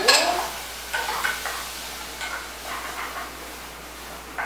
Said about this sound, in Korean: 그 다음에 물은 쌀을 넣고 한번 볶아주시고